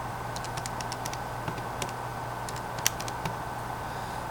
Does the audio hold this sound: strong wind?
no